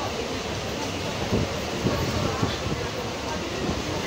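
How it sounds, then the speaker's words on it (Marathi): A Mumbai local train running toward Jogeshwari on a rainy day, a steady loud rumble with rattling clatter, heard from inside the carriage. "तर आम्ही जस्ट ट्रेन पकडली जोगेश्वरीसाठी"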